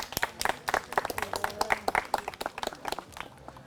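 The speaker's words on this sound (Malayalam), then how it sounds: "കൈയടിച്ച് സ്വാഗതം ചെയ്യാം." Studio audience on a comedy game show clapping and applauding to welcome a contestant, a dense burst of handclaps sustained evenly throughout.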